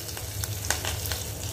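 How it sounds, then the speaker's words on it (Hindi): Cumin seeds and curry leaves crackle and sizzle in hot oil, a close steady hiss with a few sharp pops and no voices. "जीरा डालने के बाद हम इसमें थोड़ा सा कड़ी पत्ता डालेंगे।"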